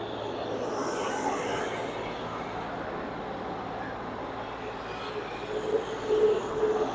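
Komplet Kompatto 5030 crusher unit runs with a steady, loud engine drone heard up close, which shifts slightly near the end as the RPM is lowered.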